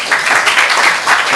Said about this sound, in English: Let's give a long applause.